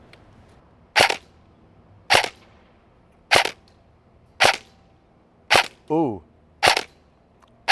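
An EMG Colt M16A3 airsoft electric gun on an 11.1 volt battery firing single 0.20 gram BBs, seven sharp snapping shots at roughly one-second intervals, loud and close, with a short voiced exclamation between shots.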